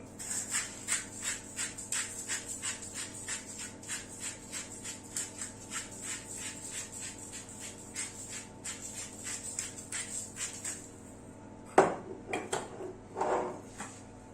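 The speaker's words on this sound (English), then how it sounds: "now it is time to use the salt grinder" A salt grinder grinds salt over potatoes with quick, steady, rhythmic crunching clicks up close for about eleven seconds, followed by a few louder clattering knocks.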